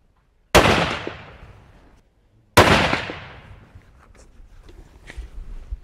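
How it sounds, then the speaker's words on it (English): Two loud rifle shots fired while sighting in rifles at a South African hunting camp, each a sharp close crack with a decaying echo, spaced about two seconds apart, followed by faint clatter. "As soon as we got here, it was sight in the rifles."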